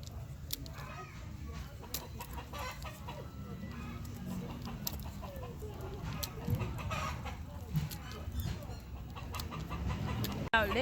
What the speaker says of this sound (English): We have hens here.